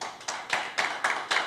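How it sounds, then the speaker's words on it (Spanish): Applause from an audience at a Peruvian government seminar on administrative economic units comes in a few distinct swells of claps, each rising sharply and tailing off, close and moderately loud. "Con fuertes aplausos, por favor"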